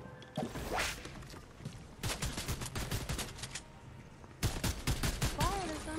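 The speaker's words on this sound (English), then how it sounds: "Ghost people are shooting at me." Fortnite gunfire crackles in several rapid bursts of shots, separated by short pauses, fairly loud against quieter game ambience.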